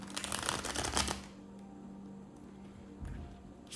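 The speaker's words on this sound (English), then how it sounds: "This deck is so thick, it is hard to shuffle." A thick deck of cards is riffled in a loud, rapid burst, followed by softer taps and a second brief shuffle.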